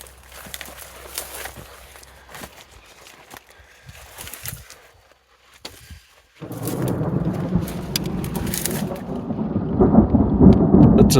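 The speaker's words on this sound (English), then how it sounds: "Just heard a clap of thunder." Thunder rumbling in a thunderstorm at a scrapyard with old tractors, a quiet patchy stretch giving way to a loud, sustained low roll that builds toward the end, with no talking.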